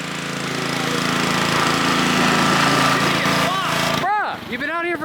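A pressure washer blasts at a Nissan S13 in a loud, steady mechanical roar for about four seconds, then cuts out, leaving a voice talking close by.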